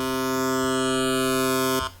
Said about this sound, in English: if you do turn on that unison phase retriggering thing and you set the phase to 0